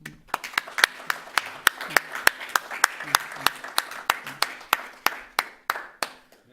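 An audience at an association's general assembly claps to honour a man named Thierry. The claps are sharp, evenly spaced and rhythmic, close and fairly loud, with no voices over them.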